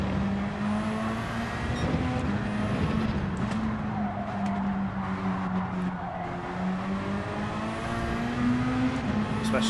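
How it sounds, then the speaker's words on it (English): Racing car in the Gran Turismo 7 video game, its engine droning steadily throughout while a sustained, wavering tyre squeal rides on top through a long corner, loud and continuous with slight pitch sweeps. "all you're hearing is tyre squeal. Like that there."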